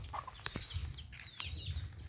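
Chickens cluck softly nearby in short scattered calls, with chicks present, a few sharp knocks and a steady high hum in the background.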